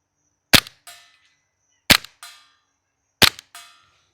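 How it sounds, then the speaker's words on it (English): A Lancer Tactical LTX airsoft rifle fires three evenly spaced single shots, each a sharp close crack followed by a softer smack as the pellet hits a purple target in woods. "We're just going to fire off 3 rounds to start into that purple target right there"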